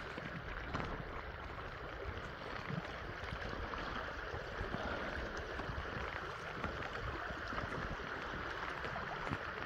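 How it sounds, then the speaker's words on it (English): Creek water flowing steadily outdoors on a cool day, a continuous broadband rush and gurgle close by with no talking. "There's some good stuff down in the creek too."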